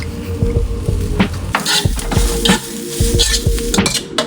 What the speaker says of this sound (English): After the onion is cooked, add the rest of your vegetables.